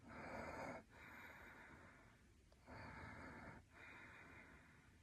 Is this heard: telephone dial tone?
no